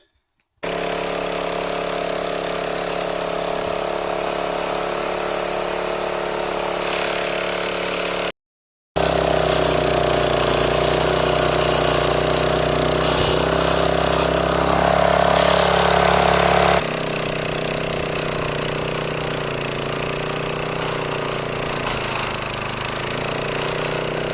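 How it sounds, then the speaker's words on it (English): An old John Deere lawn mower engine runs loud and close, a steady droning idle with a brief cut near the start before resuming, then shifting in pitch as it works, with no talking. "I'm going to fire this baby up. It's an old John Deere."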